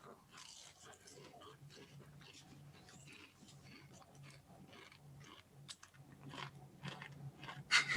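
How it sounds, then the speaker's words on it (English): Someone crunching and chewing food close to the microphone during a podcast, with soft irregular bites and chews, fainter early and louder and more frequent toward the end. "I can hear every crunch."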